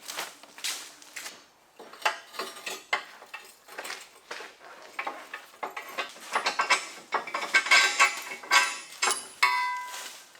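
Metal clanks and ratcheting clicks come from a wrench working at stuck bow rollers on a steel boat, irregular and close, continuing in bursts without pause.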